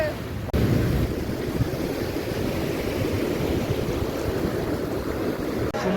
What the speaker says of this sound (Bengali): এত বড় বড় ঢেউ পুরো টেনে চলে যাচ্ছে, এত স্রোত।